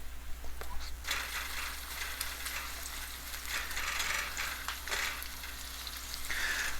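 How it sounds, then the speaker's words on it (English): Onions frying in a pan for a Malay-style paneer sambal, giving a steady, moderately loud sizzle and crackle that runs throughout with no talking. "So let the onions cook"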